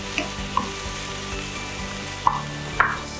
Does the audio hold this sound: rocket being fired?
no